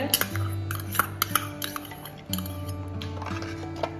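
Curd starter being mixed into milk in a metal bowl, with close, irregular clinks and scrapes of a spoon against the bowl, a brief pause midway, then more stirring; no voices.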